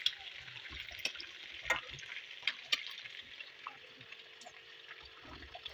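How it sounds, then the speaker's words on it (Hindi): Beef pieces fry in a pan with a quiet, steady sizzle, broken by scattered pops and clinks as they are stirred and moved about. "कितना अच्छे से हमारा जो गोश्त है वो फ्राई हो गया"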